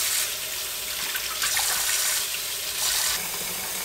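Warm tap water runs steadily into a sink with a loud, continuous rushing hiss that swells briefly a couple of times.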